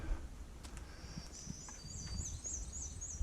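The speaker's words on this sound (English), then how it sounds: "all you hear is a few birds" A few birds chirping and calling faintly in the distance over quiet outdoor background noise on a storm-damaged hiking trail.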